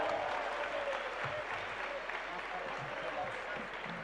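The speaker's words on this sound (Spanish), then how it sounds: "Un fuerte aplauso para ella, por favor." Steady audience applause at a national education forum, welcoming a Colombian folk music performer onto the stage; dense, continuous clapping with crowd noise throughout, fairly distant and even in level.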